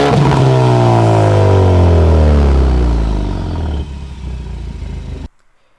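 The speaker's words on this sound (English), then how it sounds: "you could really hear this turbo spool up as well" A four-cylinder turbo Ford Mustang engine in track mode revs hard, its pitch sweeping down as it winds off, loud and close with no talk, then a quieter idle before it cuts off.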